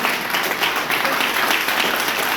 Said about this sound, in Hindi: ठोको ताली डायरेक्ट सेलिंग इंडस्ट्री के लिए